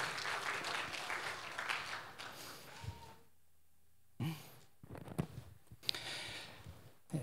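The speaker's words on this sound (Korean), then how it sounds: "다 같이 박수로 맞이해 주세요." A church congregation at a Sunday worship service claps, a dense burst of applause that fades to quiet, then scattered claps and rustling return.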